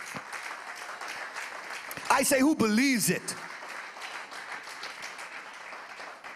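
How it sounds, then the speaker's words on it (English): Church congregation clapping along during a sermon, a steady patter running under a preacher's amplified voice, which rises into a brief emphatic call midway. "Whoever believes that, clap your hand."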